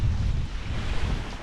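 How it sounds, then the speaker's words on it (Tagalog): Strong wind gusts rumble across an outdoor microphone in Palawan, a low, buffeting roar that stays fairly steady over a short stretch with no voices. "Dito mahangin"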